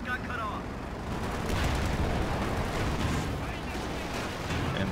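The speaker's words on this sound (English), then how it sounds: "the 50 cal machine gun on the right-hand side, doing a lot of work here, trying to stop the approaching infantry" Dense, continuous battle noise from Company of Heroes 2: rapid gunfire, including a .50 cal machine gun firing at advancing infantry, blends with rumbling explosions into a loud, unbroken roar, and a voice talks over the top.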